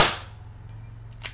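A Crosman SNR 357 airgun revolver fires a single pellet, one sharp crack at the very start that fades quickly, then a faint tick follows near the end.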